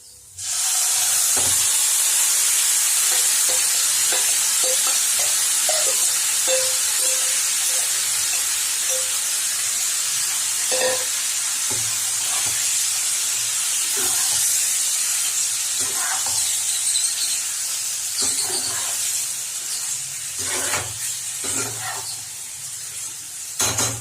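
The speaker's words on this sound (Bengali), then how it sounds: "এবার আমরা এর মধ্যে ওই মাখা মাংসটা ঢেলে দেবো" Marinated mutton poured into hot fried onions for mutton kosha, setting off a loud, continuous hissing sizzle that bursts up at the start and stays steady for many seconds, with scattered spatula knocks and scrapes, close by and without talk.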